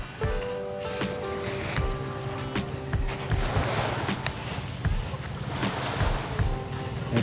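A boat on the water at a shoreline in Camiguin, Philippines, heard as a steady wash of waves and wind with a low engine drone and occasional thumps and knocks nearby, no talking.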